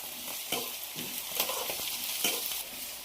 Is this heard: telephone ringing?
no